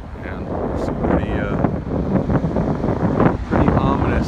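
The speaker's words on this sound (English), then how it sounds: "It's kind of windy." Gusty wind blows outdoors before an approaching storm, buffeting the microphone with a steady, loud, roaring rumble throughout.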